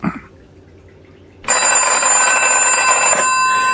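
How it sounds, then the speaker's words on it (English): A telephone bell rings loudly and steadily for about two seconds after a quiet, faintly hissing pause, with no voices over it. "Until the telephone rang."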